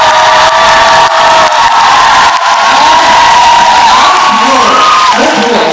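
An audience at a book launch talk cheers and whoops loudly and continuously, a dense wall of crowd voices with a sustained shout rising over it.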